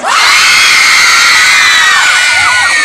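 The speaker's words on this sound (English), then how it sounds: "Everybody should scream" A large crowd in Bohol screams and cheers to welcome a guest, a loud, sustained roar of shrill voices and whoops close by.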